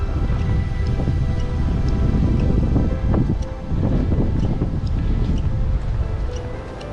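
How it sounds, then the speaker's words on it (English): Strong hurricane wind from Hurricane Zeta in Riviera Maya near Cancun, a loud, constant roaring rush with gusting swells and buffeting against the microphone, no one speaking. "it's really bad wind"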